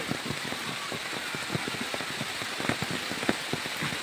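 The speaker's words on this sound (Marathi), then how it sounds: "आणि पाऊस आलेला म्हणून पावसात पण कामं करतोय" Rain pattering steadily on a hut under construction, a dense, even hiss with many small distinct drop ticks, moderately close and heard alone without talk.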